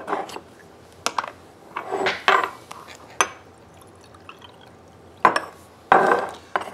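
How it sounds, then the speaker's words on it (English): Dilute hydrochloric acid is poured from a large measuring cylinder into a polystyrene cup, giving short bursts of liquid splashing and pouring with light knocks of glassware in between, close and fairly quiet, with no talking. "use the large measuring cylinder to put 30 centimetres cubed of dilute hydrochloric acid into the polystyrene cup"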